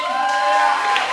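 A church congregation applauding during a Saturday worship service, a steady dense wash of clapping and crowd noise with scattered cheers, sustained and fairly loud throughout.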